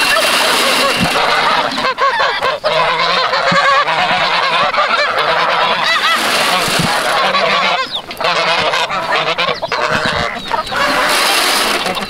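A flock of farm geese honks loudly and continuously up close, with dense, overlapping squawks and some clucking chickens mixed in throughout.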